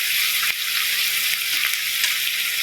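Carrots cook in a pan for a carrot and beans rice dish, giving a steady, close hiss of frying that runs unbroken, with a few faint stirring scrapes and no voices.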